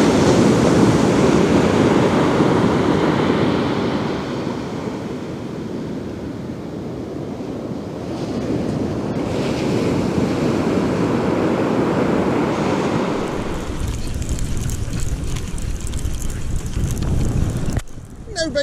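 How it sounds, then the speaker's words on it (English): Loud surf crashing continuously on a UK shore-fishing beach, broadband roar with wind buffeting the microphone, a surge easing near the end. "Waves are absolutely crashing."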